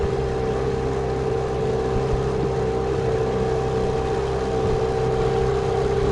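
A motorboat with a 9.9 HDX outboard motor runs at a steady drone, holding an even mid-pitched engine hum with no talk.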